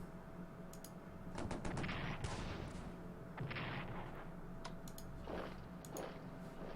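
Artillery fire in the Strategic Command: World War I strategy game, a series of muffled booming shots and clicks spread across the clip over a steady low hum, with no talk.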